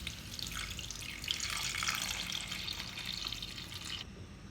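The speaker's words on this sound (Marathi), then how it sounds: "आता यामध्ये मी दूध टाकून घेते।" Milk pours into a pot of cooked rice kheer, a steady close splashing stream lasting about four seconds before it stops, with no voices.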